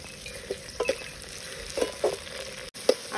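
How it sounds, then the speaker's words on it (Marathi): Onion and tomato cook in a pan, a faint soft sizzle with several quiet scrapes and clinks of a spoon stirring, close and without talk. "त्याच्यामध्ये टमाटर टाकून देऊ. तो पण थोडा शिजून घेऊ."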